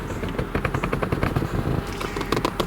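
A Mercedes-Benz SL 500 soft top, aluminum framed, latching into place up front, heard as a rapid string of loud mechanical clacks and thumps with a whirring motor underneath.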